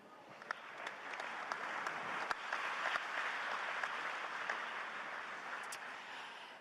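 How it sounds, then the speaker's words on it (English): Applause from the audience at a plenary session on Ukraine reconstruction, a steady, fairly distant roll of many hands clapping with a few sharper claps standing out, continuing for several seconds without speech. "we can hear from the applause"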